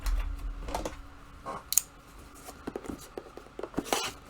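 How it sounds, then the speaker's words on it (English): Scissors scrape and snip through a cardboard box on an unboxing table, giving faint, close scratchy cuts and small taps in an irregular run. "Trying to open up a box with scissors."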